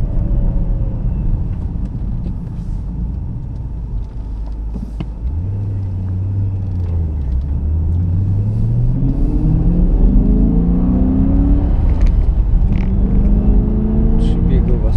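A car with a three-speed gearbox is driven away in second and shifted up through third and sixth, with a loud steady engine rumble and rising, falling pitch as each gear takes hold, under continuous talk.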